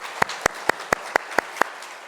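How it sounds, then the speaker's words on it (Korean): A church congregation welcoming a new member during a Sunday worship service claps in unison: seven sharp, evenly spaced claps, moderately close. "우리 큰 박수 함께 축복했습니다."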